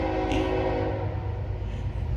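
A train rolls past near a house, its horn sounding with a sustained tonal blast over a low, steady rumble of rail cars.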